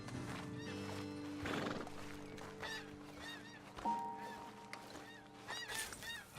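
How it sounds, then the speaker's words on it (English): Horses whinny and neigh in a Red Dead Redemption 2 outdoor scene near a roadside ledge, several distinct calls spread through the clip along with clip-clopping hooves, heard fairly close over a quiet background. "Best leave the horses back a bit."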